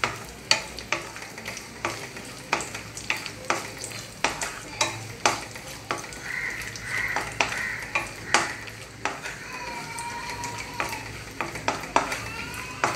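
Raisins fry in a hot pan as a spoon scrapes and stirs them in sharp, repeated strokes over a constant sizzle, close up and with no talking, during the making of Malabar unnakkaya.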